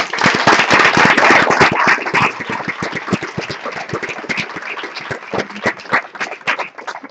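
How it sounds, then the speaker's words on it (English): Loud, close audience applause welcoming Mwende FreeQuency Katwiwa at a brown bag talk, starting as dense clapping and thinning into scattered individual claps from a small room. "please give her a round of applause"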